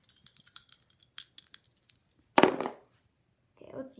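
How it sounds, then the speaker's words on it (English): Dice are thrown during a family board game night: a series of light clicks and rattles, then one sharp clatter as they land, with a softer rustle after. "throw the dice for me."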